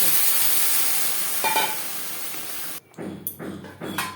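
Potatoes frying with mutton in a pan for an aloo mutton curry give a steady broadband sizzle, with a brief clink near the middle and louder stirring scrapes and bursts toward the end.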